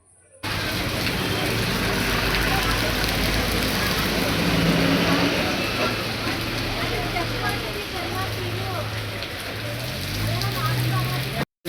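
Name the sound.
heavy rain falling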